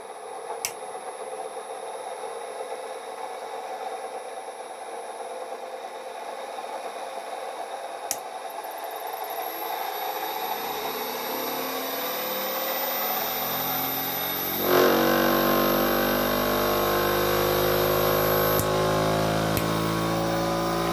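A homemade free energy generator motor spins up, its tone climbing steadily with a high whine that rises and sharpens midway, and no talking throughout.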